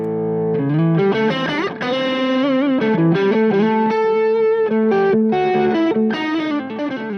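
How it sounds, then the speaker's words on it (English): Electric guitar played through a high-gain amp-in-a-box distortion pedal, thick saturated chords and bending notes ringing loud and sustained with no talking. "It's a great high gain amp in a box style pedal"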